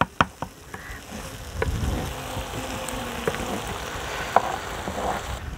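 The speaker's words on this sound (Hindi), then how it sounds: "साथ ही भिंडी डाल देंगे। अच्छी तरह मिक्स करेंगे।" Okra (bhindi) tossed into a hot pan and stirred for a village-style masala dish: a few sharp knocks at the start, then a soft, steady frying sizzle with scattered clinks from the stirring.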